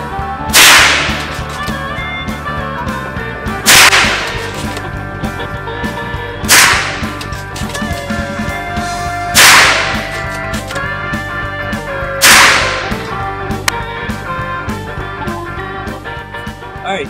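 A suppressed .22LR rimfire rifle fires sharp, evenly spaced cracks about three seconds apart at an outdoor range, five clearly standing out over a constant humming background.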